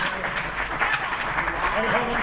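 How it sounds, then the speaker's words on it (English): An audience applauds speaker Rhodessa Jones at an international arts fundraiser. The clapping is dense and continuous with a few louder bursts, and it runs the whole time. "Rhodessa Jones, please, applause. Give it up for her."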